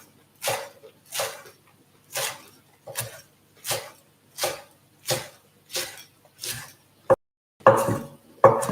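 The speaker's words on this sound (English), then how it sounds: "So I'm going to cut these up. Just finely shred them." A knife finely shreds tender vegetable stalks, similar to broccoli, for a warm lentil salad. Around a dozen crisp, evenly spaced cuts land on a board, closely heard, before a few quicker strokes close it out.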